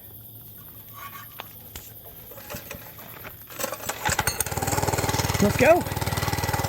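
A Monkey Bike small motorcycle engine sputters to life on choke without throttle control, a rough, uneven patter building loud and close after a quiet start, with a voice speaking briefly over it.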